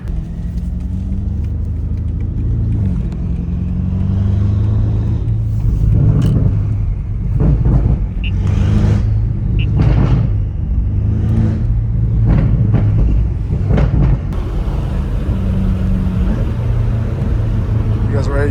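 Straight-piped BMW M5 Competition engine blipping through repeated loud revs on a street, sharp bursts of exhaust over a deep rumble, with someone talking between pulls.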